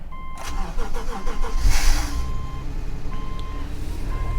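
A 2013 Subaru car engine cranks with a few quick starter whirs, catches with a loud rising rev, then settles into a steady idle, heard up close in cold weather.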